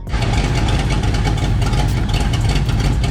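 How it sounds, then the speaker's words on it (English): Car engine with an exhaust leak running at a steady rough idle after being started, loud and close, with a constant ragged low rumble and a raspy puffing texture throughout. "Apart from the exhaust leak, it runs really well."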